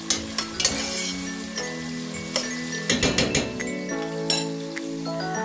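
Onions sautéing in oil in a pan for Lebanese rice with fava beans give a steady sizzle, broken by several sharp clinks of a utensil against the pan, with no talk.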